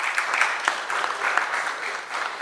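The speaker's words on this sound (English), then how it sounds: "he deserves a huge round of applause" Steady applause from an audience at a foundation day anniversary celebration, many hands clapping at a moderate distance with a few sharper claps standing out.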